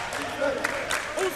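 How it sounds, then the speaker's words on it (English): Crowd at a Division II men's college basketball game cheering and clapping during a defensive possession, a broad sustained noise with short bursts of clapping and shouts. "As you can hear the crowd trying to hype up for defense."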